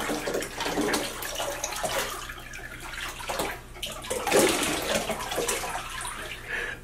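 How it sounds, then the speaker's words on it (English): Water sloshing and splashing as a puppy named Scrappy gets a bath with doggy shampoo, soft irregular swishes and trickles close by, fairly quiet and continuous. "Okay, so I'm washing Scrappy's paws with the doggy shampoo."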